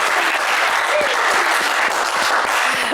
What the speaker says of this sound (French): Mais des applaudissements pour Georges